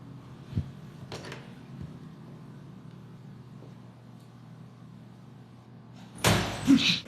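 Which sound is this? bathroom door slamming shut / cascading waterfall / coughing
bathroom door slamming shut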